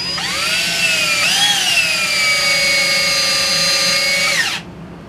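A power drill runs in reverse, driving an Astro Tools ADR14 XL blind rivet adapter to pull a rivet. It gives one steady, loud whine that dips briefly in pitch partway through as it loads, then cuts off.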